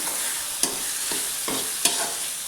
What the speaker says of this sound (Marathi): आता ह्याच्यात एक टमाटर टाकून देते. त्याला पण चांगलं भाजून घेऊ आपण.